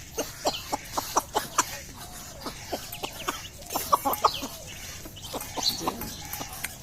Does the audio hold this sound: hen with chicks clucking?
yes